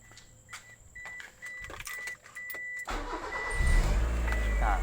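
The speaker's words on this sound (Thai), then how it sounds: "ใส่โคแบตแล้วก็มาติดเครื่องกัน" A Mazda 323 car engine fitted with a homemade separate ignition coil cranks with a few clicks, then catches at about three seconds and settles into a loud, steady idle close by.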